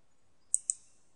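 Two quick, faint computer mouse clicks land close together in a quiet room, spaced a fraction of a second apart, with near silence before and after.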